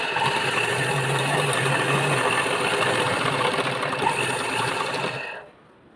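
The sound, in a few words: sewing machine stitching a blouse neckline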